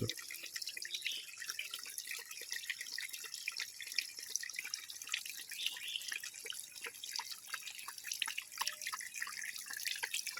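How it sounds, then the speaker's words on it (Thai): A dog laps water in a soft, quick series of wet drips and splashes, steady and close, with no talking. "ดูหมามันกินน้ำยังไง"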